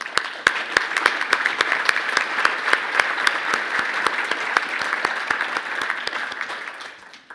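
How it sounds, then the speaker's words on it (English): Audience applause at a presentation, a dense sustained round of clapping from a room of people, steady and fairly loud throughout before tapering off at the end. "So I'd like to give them all a very warm round of applause."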